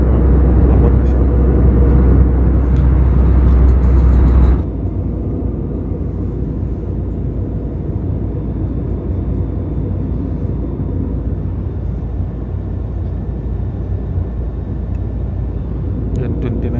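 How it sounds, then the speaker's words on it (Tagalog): Steady, loud broadband rumble inside the cabin of a descending Philippine Airlines airplane, with a drop in level partway through and the constant drone continuing afterward, no voices. "Yan ang tanawin na sa labas, pababa na yung aeroplano."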